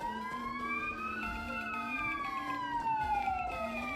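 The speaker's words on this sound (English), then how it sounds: "Is that a police car?" A police car siren wails in a video game, sweeping up and down in overlapping tones that stay steady and moderately close over a low background rumble.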